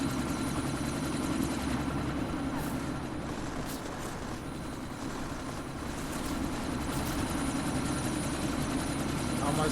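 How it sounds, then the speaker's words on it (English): A military helicopter in a video game spins up for takeoff, a continuous loud rotor and engine roar with steady thumping, alongside game effects and faint voices. "That chopper's about to take off."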